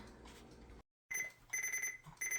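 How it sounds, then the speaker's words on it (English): A kitchen timer goes off while zucchini au gratin bakes in the oven, giving repeated high, bright electronic beeps in short bursts, fairly quiet and close, after a brief silence. "my timer went off"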